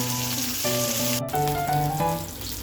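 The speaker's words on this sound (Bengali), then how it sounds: "মাছগুলি আপনারা খুব কড়া করে ভাজবেন না, মোটামুটি ভাজবেন" Fish frying in hot oil with a continuous bright sizzle, plus tonal ringing clinks and a brief sharp break partway through. Nobody speaks.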